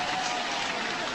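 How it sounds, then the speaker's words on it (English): A burst of applause sound effect on a live stream, a steady dense patter of clapping that holds at an even level throughout with no pauses. "We don't have a clap noise?"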